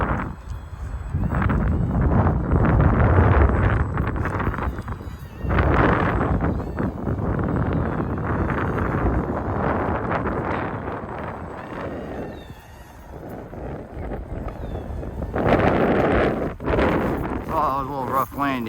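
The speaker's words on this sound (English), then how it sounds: "I'm sure you guys hear the wind howling" Strong, gusty wind buffets the microphone outdoors while a Z51 Predator two-channel RC plane is flown, a loud continuous roar with surges and lulls and a thin motor whine near the end.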